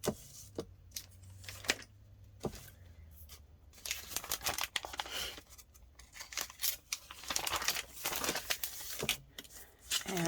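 Scrapbook paper is torn by hand in quick, close ripping bursts and crinkles. The sounds are separated by short pauses, with light handling noises between them and no talking.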